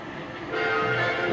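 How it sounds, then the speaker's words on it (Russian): A train passes near a railway line in Omaha, heard as a steady broad rumble and rolling hum that swells slightly louder midway, with no talk over it. "А вот другой поезд едет."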